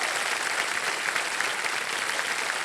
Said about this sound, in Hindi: बहुत बहुत स्वागत आपका तालियों के साथ इनका। जोरदार तालियां।